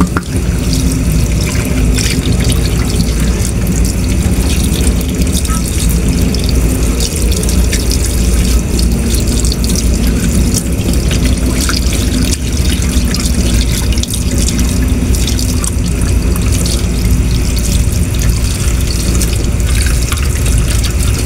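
Tap water pours steadily as tilapia is washed in a sink before cooking, a loud continuous splashing stream with faint clinks and shifting as the fish is handled.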